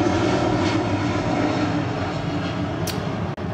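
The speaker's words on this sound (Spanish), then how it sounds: "¿Escuchan los aviones?" Airplanes passing overhead, a steady broad roar of jet engine noise that fills the whole stretch at constant loudness, with a brief dip near the end.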